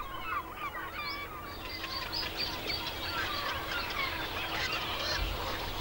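A flock of migrating birds at Vrana Lake, a nature park near the coast, gives a dense chorus of overlapping goose-like honks over a steady outdoor background.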